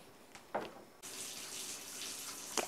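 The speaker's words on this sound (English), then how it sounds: "Next, I'm going to add 4 ounces of water." Water splashes and pours steadily into a sourdough starter jar, starting after a couple of soft knocks and running as a bright continuous trickle close by, with no talking.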